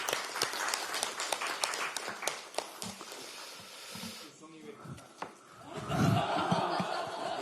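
Clapping at a Democratic Party supreme council meeting for the party floor leadership, a burst of scattered claps for about four seconds that fades into murmuring and a voice.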